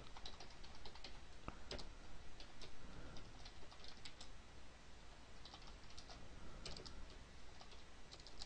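Computer keyboard typing, quick irregular clusters of light key clicks tapping close by at a low level, with no talking.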